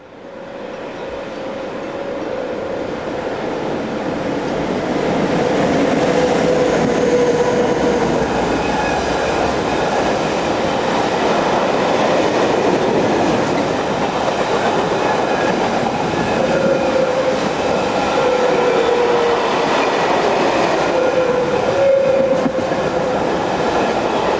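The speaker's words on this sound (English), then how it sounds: "Finally, 11163 and 11636 had another southbound freight on one of the most photographed and well-known lines in Switzerland, the St. Gotthard." Swiss locomotives 11163 and 11636 haul a southbound freight train on the St. Gotthard line, a loud rolling rumble that swells over the first seconds and holds steady, with faint wheel squeals threading through.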